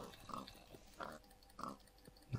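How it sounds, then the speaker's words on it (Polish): A Minecraft pig grunts three times at roughly even half-second gaps, each oink short and nasal, fairly faint and heard alone. "O, świnia, daj mi żarcie."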